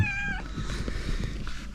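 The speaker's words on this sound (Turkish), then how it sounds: "Benim sokak kedileri." Street cats meow close by: one clear, high meow opens, then low rustling and soft noises follow.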